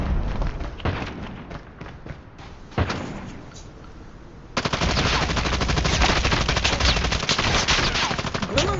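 An RUS submachine gun in the mobile shooter Call of Duty Mobile, firing in rapid bursts with short pauses and then one long sustained spray of automatic fire, loud and close.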